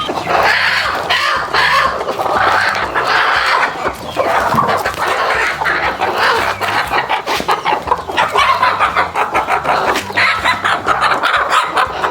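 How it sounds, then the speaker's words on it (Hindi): Broody hens cluck and murmur continuously nearby, with a dog barking intermittently among the busy farmyard noise. "दोस्तों यहाँ पे 10 मुर्गियाँ हैं"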